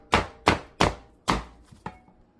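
A knife chops onion on a board in five crisp, close strikes at an uneven pace, the last one lighter, with no voices.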